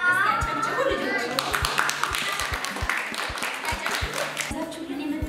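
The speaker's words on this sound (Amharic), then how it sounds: "እሺ አጨብጭቡ ልጆች።" Children clap at an indoor gathering with a bright, uneven burst of hand claps, scattered sharp slaps under a voice speaking, with a low musical tone droning beneath.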